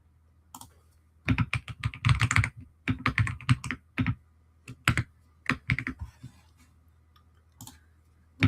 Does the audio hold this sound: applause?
no